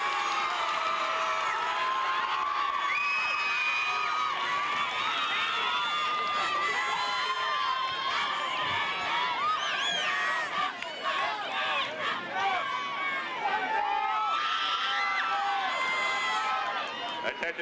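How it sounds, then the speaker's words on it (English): Loud crowd noise at a 1994 Hawthorne vs West Torrance high school football game as the homecoming king and queen are honored, with continuous cheering, shouting and whoops and scattered clapping. "Give a big round of applause for our homecoming king and queen"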